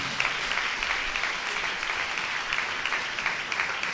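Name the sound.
congregation clapping hands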